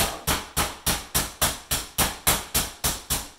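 A meat hammer pounds raw chicken breast on a cutting board for chicken parmesan, about a dozen sharp, evenly spaced thuds in a steady rhythm, close and moderately loud with no talking.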